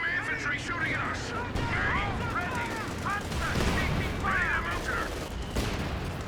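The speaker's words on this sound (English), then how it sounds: "Enemy infantry shooting at us." Infantry rifle and machine-gun fire in Company of Heroes 2, bursts of crackling shots and booms in a busy battle mix, steady and fairly loud, with a commentator talking over it throughout.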